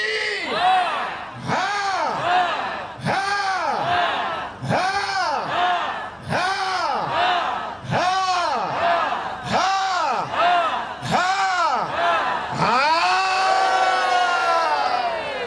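A church congregation at a Saturday evening Easter service shouts and acclaims in loud, rhythmic waves, with about eight swelling chant-like cries repeating roughly every second and a half, each rising and falling, then one longer sustained shout.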